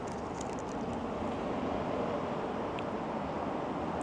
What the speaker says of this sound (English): It's a bit windy today